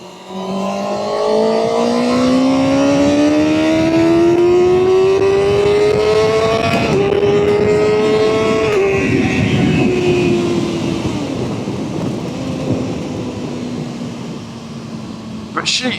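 Triumph Street Triple 765 RS motorcycle engine revving hard while riding, pitch climbing steadily through a gear before dropping as it shifts, loud and close with rushing wind noise, then settling to a lower drone.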